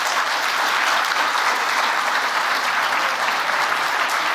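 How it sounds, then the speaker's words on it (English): A room at an AI policy forum applauds to thank an ambassador after a talk, a loud, sustained and even burst of clapping from the whole crowd, with no speech over it. "Warm thank you and round of applause"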